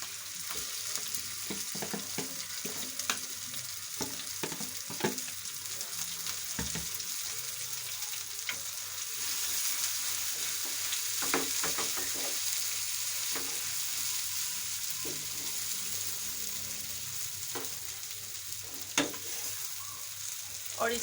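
Samosa stuffing fries in a pan with batter just added, a steady close sizzle running throughout while a utensil scrapes and stirs in irregular knocks and clicks.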